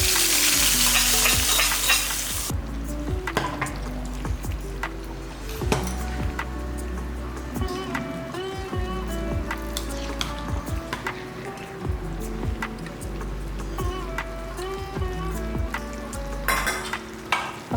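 Ghee with fried cashews poured into a pressure cooker of chicken pulao, giving an immediate loud sizzle that settles into frying crackle with clinks and stirring scrapes of metal utensils against the pot, no talk.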